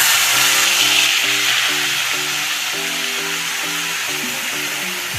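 A spice paste mixed with water goes into cauliflower and peas frying for a Bengali niramish matar fulkopi, and a loud, dense sizzle fills the clip and slowly eases, with faint tonal hum beneath.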